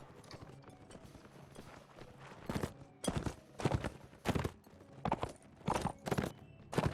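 Horses clip-clop rhythmically at moderate distance during a team cavalry battle in a video game, with irregular bursts of hoofbeats and clashing over a low background din.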